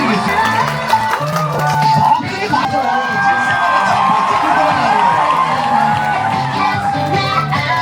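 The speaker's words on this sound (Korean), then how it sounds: "박수 한번" Audience at a kindergarten recital in Gyeongsan cheers and applauds in a loud, dense, steady wash of clapping and shouting, with children's voices mixed in throughout.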